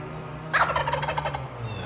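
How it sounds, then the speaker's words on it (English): A wild turkey gobbler gobbles once, loud and close, with a rapid rattling burst that lasts about a second against quiet outdoor background hum. "He's gobbling a lot."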